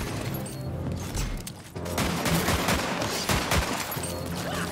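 Gunfire in Tiny Tina's Wonderlands, bursts of rapid shots with a brief lull before heavier, louder firing resumes.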